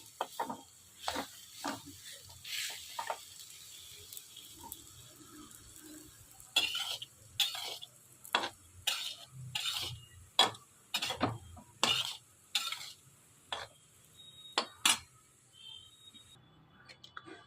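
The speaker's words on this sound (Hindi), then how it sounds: "अब इनको अच्छी तरह मिक्स करते रहेंगे।" A dry fruit panjeeri mixture is stirred in a pan. A spoon scrapes it close up in repeated, fairly regular strokes, with brief pauses between bursts.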